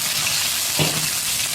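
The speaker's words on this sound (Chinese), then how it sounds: "锅里倒一勺猪油，下入葱姜蒜干辣椒。" Scallion, ginger, garlic and dried chili frying in hot lard in a wok, a steady loud sizzle with a brief burst of crackling as the aromatics hit the fat.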